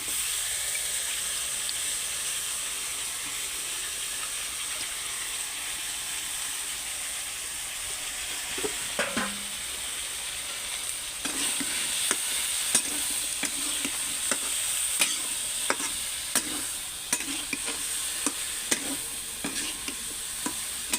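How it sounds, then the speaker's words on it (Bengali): Taro stolons (kochur gati) fry in a pan with a steady close sizzle while a spatula stirs them, scraping and tapping in a loose repeated rhythm that grows busier partway through, with no talking. "কচুর গাঁটিটা দিয়ে অবশ্যই খুব ভালোভাবে নেড়েচেড়ে নিতে হবে।"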